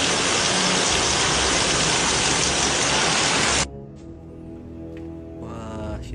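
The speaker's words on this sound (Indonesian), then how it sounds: "barusan kena hujan angin Depok, hujan angin." Heavy rain driven by a wind storm in Depok, Indonesia, roars as a dense, loud wash of noise before cutting off abruptly to a much quieter background with faint tonal sounds.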